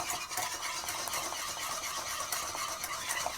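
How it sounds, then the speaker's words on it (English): Food in a pan is stirred while burritos are being made, with a soft continuous sizzling hiss and light utensil scrapes close by, and no talking. "I got to stir this because I don't want it to stick"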